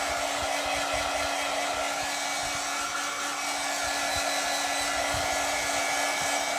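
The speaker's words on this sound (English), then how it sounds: "This dryer drives me crazy. I have ordered a quiet dryer." A hair dryer drying paint blows steadily and loudly throughout, a constant whooshing roar with a faint electric hum underneath.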